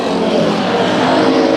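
A race car roars past during a heat race at Bakersfield Speedway. The engine sound is loud, close and unbroken for the whole moment, with no voices over it.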